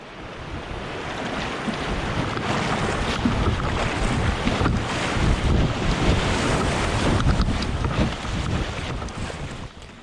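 River rapids with good-sized standing waves roar steadily and loudly around a canoe on the Brightsand-Kopka River, a continuous close rush of churning water with wind buffeting.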